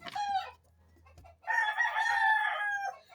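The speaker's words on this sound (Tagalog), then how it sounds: "Dahil manok sa lugar namin," A rooster crows twice near a home: a short call, then a longer, loud, drawn-out cock-a-doodle-doo, both close with no talking.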